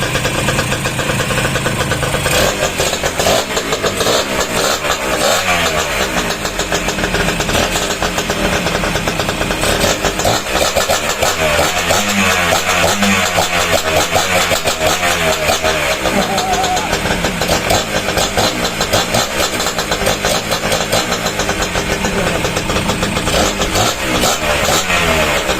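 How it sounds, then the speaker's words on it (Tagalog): A freshly overhauled engine, rebuilt and not yet mounted in its chassis, cranks and fires, then settles into a steady, fairly quiet idle close by, with a voice talking over it now and then. "Yan, naandar na. Tahimik din yung makina."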